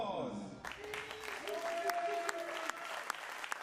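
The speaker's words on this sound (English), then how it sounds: "Big applause." Audience applause breaks out at a women's junior 25m pistol shooting championship final, a steady, moderately distant clapping lasting a few seconds with sharp individual claps standing out.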